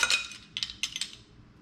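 A small metal teaspoon clinks against a bottle and bowl while sesame oil is measured for Thai turkey burgers in a home kitchen. There are several light, close clinks in quick succession, with quiet room tone between them.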